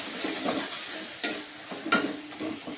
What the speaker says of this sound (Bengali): এখন সুজিগুলো দিয়ে নারকেলের সঙ্গে এখন পাক করে নেব।